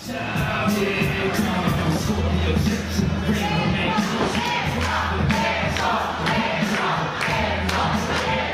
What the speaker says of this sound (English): The crowd calling for a little bit of a dance-off.